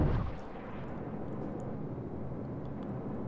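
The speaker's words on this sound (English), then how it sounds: "And we have liftoff." Rocket engines ignite and lift off in a Kerbal Space Program Apollo-style launch, a loud initial burst settling into a steady broadband roar that holds throughout, with no talking.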